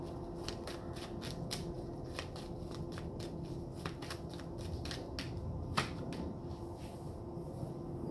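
Tarot cards are shuffled and pulled in a close, soft series of rapid flicks and snaps over a low steady background hum, with no voices.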